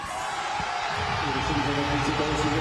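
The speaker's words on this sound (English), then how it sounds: "So now the cheer again to get these athletes going" Steady crowd noise of spectators cheering athletes at a Division 3 race of the 2023 European Athletics Team Championships, a continuous roar under a commentator's voice.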